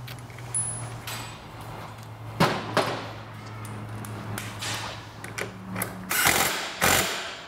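A ratchet tightens the rear shock nut on a Vespa GTS scooter, giving a few sharp metallic clicks and clacks over low background hum in a workshop.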